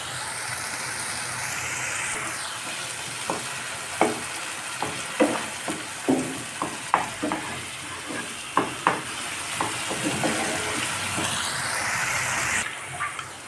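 Chopped tomato and spice paste are sautéed for a Tyangra fish curry. A soft, steady sizzle runs throughout, and a utensil scrapes and taps rhythmically against the pan with each stir.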